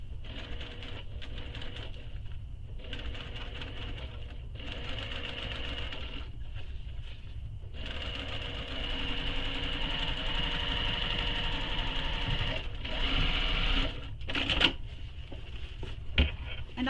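A home sewing machine runs in long steady bursts while top stitching a fabric panel for a mini messenger bag, a close, even whirring hum with short pauses between runs.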